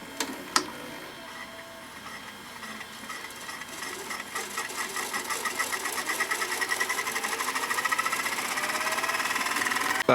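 Sony SVO2000 VCR rewinding a damaged tape: a sharp clunk, then a whirring mechanical rattle that speeds up and grows louder into a rapid ticking chatter, ending with another clunk.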